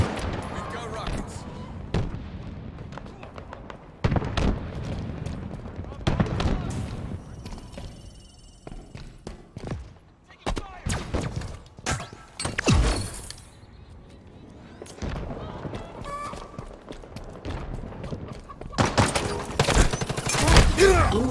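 Heavy Halo Infinite gunfire and explosive blasts come in repeated loud bursts of fusillade, some booming and close, separated by quieter gaps, with voices talking in between.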